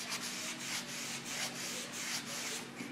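A cedar plank board is hand-sanded with a steady, quiet scratchy rubbing in short repeated strokes, close by and alone.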